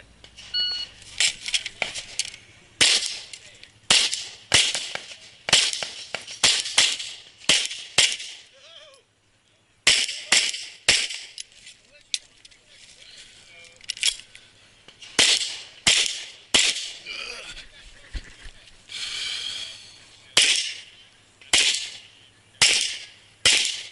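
Handgun shots ring out through an IDPA competition stage, firing in quick bursts of sharp, loud cracks with short pauses between strings, and a brief gap partway through.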